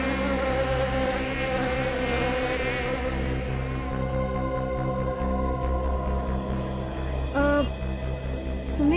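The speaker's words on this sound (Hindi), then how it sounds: "भिनभिनाने की, मक्खी के भिनभिनाने की" A housefly buzzes steadily and close throughout, its droning whine continuous over a low hum, with no talking.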